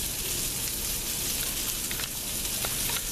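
Pork meatballs fry in a pan with a dense, continuous sizzle, close and even throughout, and no talk.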